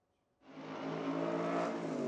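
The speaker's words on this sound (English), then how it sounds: "The high-octane thrill and roar of high-performance cars was last heard at South Africa's Kyalami Grand Prix circuit in 1993." A high-performance race car engine starts up and holds a loud, steady roar with a sustained whirring tone, close and alone after a moment of quiet.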